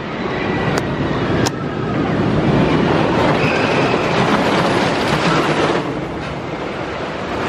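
The Stampede wooden roller coaster train at PortAventura in Salou, Spain, rumbling loudly and continuously along the track with clattering wheels and a couple of sharp metallic clicks, no talk heard.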